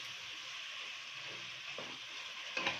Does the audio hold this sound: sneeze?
no